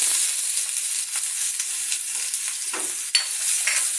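Onion sizzles while frying in oil in a pan, a steady bright hiss close by, with a couple of stirring scrapes toward the end and no voices.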